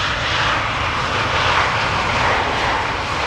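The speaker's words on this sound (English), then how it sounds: "Here we have KLM flight 1406. Which returns from Paris Charles de Gaulle" A KLM airliner inbound to Amsterdam Schiphol from Paris Charles de Gaulle gives a steady, loud engine roar that holds evenly throughout with no talk.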